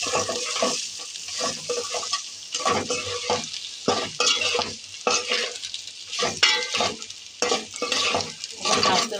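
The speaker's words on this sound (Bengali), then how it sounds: "এখন এগুলো কিন্তু ভাজবো ভালো করে" Sliced onions and dried chillies frying in mustard oil in a pot: a loud sizzle with rhythmic bursts of stirring and scraping that come every second or so, close up, with no talk.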